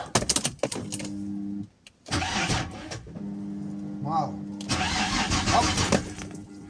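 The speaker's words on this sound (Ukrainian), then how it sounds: "Хочеться запустити і перевірити, як він буде гудіти." An Opel Omega B with a 2.5 V6 engine cranks and fires up, settling into a steady mid-pitched running hum with a brief rev, close by, while voices talk around it.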